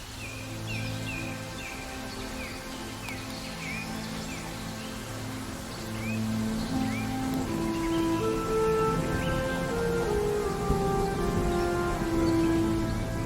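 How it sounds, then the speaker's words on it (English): Rain falls steadily in a forest, a soft even patter that thickens partway through, while birds call and chirp repeatedly above it. "Just at the shift changeover, rain sets in."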